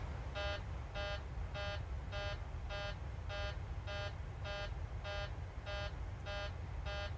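An alarm sounds in a flight simulator video game cockpit, a repeated electronic buzzing tone in regular short bursts, roughly every 0.6 seconds and about a dozen in all, fairly faint over a low steady hum.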